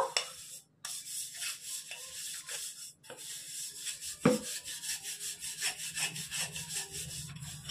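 Oil is rubbed around the inside of a mixing bowl while making a chocolate cake, giving a steady scraping, rubbing texture with several short strokes and a brief knock, fairly close and with no voices.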